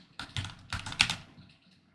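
Code being typed on a computer keyboard in a few quick bursts of sharp clicking keystrokes, close and clear, fading into quiet at the end, no voices.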